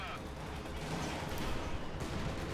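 Tank cannon fire from Panzer units scoring penetrating hits on an IS-2 in the Company of Heroes 2 strategy game, a dense continuous barrage of battle noise and blasts under a voice.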